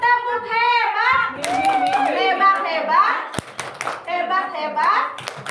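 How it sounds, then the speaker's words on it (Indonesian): Hands clapping for a girl named Mimi in a classroom-style session, a burst of claps mixed with children's excited voices and chatter over the top. "Boleh tepuk tangan buat Mimi."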